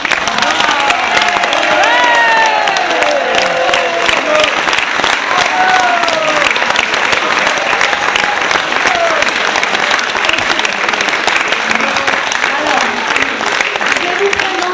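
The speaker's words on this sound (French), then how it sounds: "Alors on peut applaudir Annie." An audience at the close of a live stage show in Calonne-Ricouart breaks into loud, sustained applause with scattered cheers and crowd voices, the dense clapping steady and continuous throughout.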